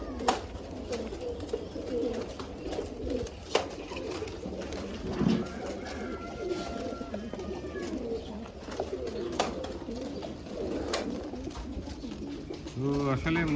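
Pigeons coo in a home coop fitted with an automatic pipe-fed water system, low murmuring calls running steadily throughout under someone talking.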